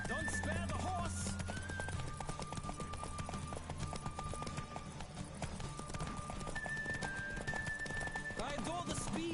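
Horse hooves pound in a fast gallop during a horse race in The Witcher 3, steady rhythmic clip-clop throughout, mixed with background music, brief neighs and intermittent spoken voices.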